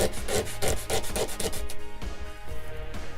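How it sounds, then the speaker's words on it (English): Sandpaper rubbing back and forth along the edges of wooden popsicle sticks, a quick run of rhythmic scraping strokes that fades into softer, steadier rubbing, close and alone. "you're gonna take your sandpaper and you're gonna smooth the edges so it looks the same on both sides"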